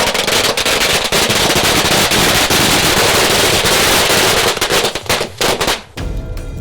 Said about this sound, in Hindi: देख सकते हैं आपकी पटाखे चलाए जा रहे हैं यहाँ पर।